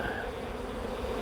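Honeybees hum in a steady, soft drone at a beehive, with a close, continuous buzz and no voices.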